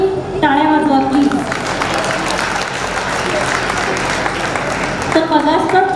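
An audience at a women's day award ceremony applauds for Shilpa, a sustained burst of clapping that swells after a brief spoken lead-in and fades as a voice resumes speaking at the end.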